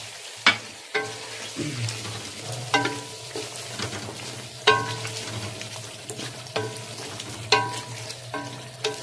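Kofta curry stirred in a pot while garam masala and crushed dried coriander go in, with repeated clinking spoon strokes against the vessel over a low steady sizzle and hum.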